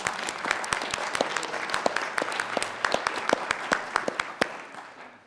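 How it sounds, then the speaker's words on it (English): Audience applause at a Harvard lecture event honoring a spring institute gathering, a steady room-filling patter of many hands with sharper individual claps standing out, holding for several seconds before tapering off. "I'd like you to give yourselves a round of applause"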